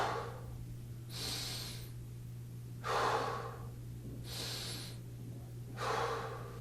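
Someone demonstrates diaphragmatic breathing: three slow, audible breath cycles of deep air drawn in and pushed out, close to the microphone, separated by quiet pauses over a low steady hum.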